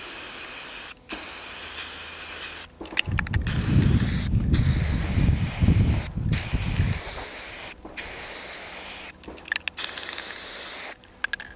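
Aerosol spray paint hisses onto a self-healing shooting target in several sustained bursts separated by short pauses, close and fairly loud.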